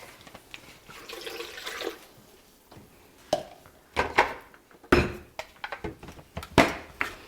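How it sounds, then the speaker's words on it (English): Water poured into a thick spice paste in a pan while cooking Indian shahi paneer, giving splashy pouring and sizzling bursts followed by sharp clatters and knocks of cookware, close and moderately loud with no talk. "So I'll just add some water to it."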